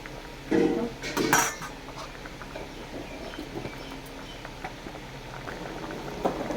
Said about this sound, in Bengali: চিংড়ি মাছটা আর একটু ফুটতে হোক